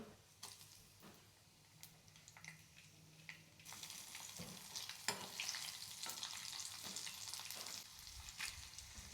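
A tempering of cumin, garlic cloves, dried red chilies and curry leaves frying in hot oil, the sizzle rising louder partway through, broken by scattered stirring clicks and scrapes.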